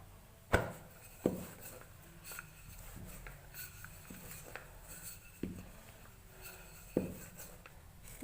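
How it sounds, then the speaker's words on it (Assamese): A knife cuts through thin rolled narikol pitha dough on a board, giving a few sharp knocks spaced across several seconds over soft scraping, close and fairly quiet. "এইখিনি কাটি লওঁ আগতে। মই কটাৰীৰে কাটি লৈছোঁ।"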